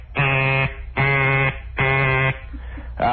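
A voice mimics a fire alarm as three even, harsh buzzing blasts with short gaps between them, close and loud, with a fourth blast starting at the end.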